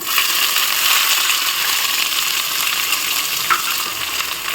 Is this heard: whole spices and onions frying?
yes